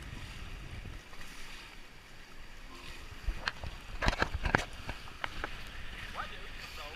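Wind-driven waves break around a sailboat on a rough sea, with steady washing and splashing, sharper slaps of water near the middle, and gusty wind noise over the microphone.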